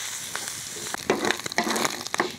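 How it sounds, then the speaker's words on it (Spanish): Chorizo sizzles steadily in a pan with a little oil, with a constant frying hiss and a few louder scraping stirs near the end. "Y le voy a mover para que se dore bien y se dore parejito"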